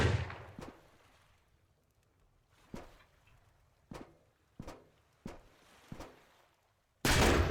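Shotgun blasts in the game Sunkenland, a string of sharp, separate booms spaced about a second apart, fairly loud against a quiet background, ending in a louder sustained burst.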